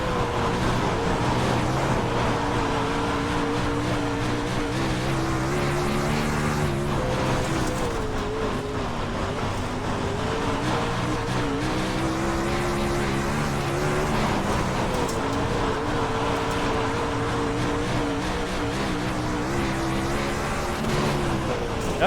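A winged sprint car engine droning steadily on a bumpy track in iRacing, loud and continuous, its pitch rising and falling through laps with no talking.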